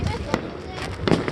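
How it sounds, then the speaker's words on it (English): Fourth of July fireworks exploding in a rapid series of sharp bangs and crackling bursts, some louder than others, with voices talking over the display. "Okay, there is a lot of fireworks."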